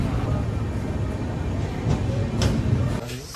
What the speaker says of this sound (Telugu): ట్రైన్ ప్రెజెంట్ ఇప్పుడే దిండిగల్ నుంచి బయలుదేరింది